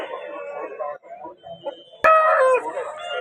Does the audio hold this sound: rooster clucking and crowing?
yes